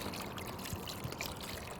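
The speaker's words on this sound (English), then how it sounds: "So let's start with a quick rinse." Running water rinses fresh clams in a quiet, continuous trickle, with faint splashes and no voices.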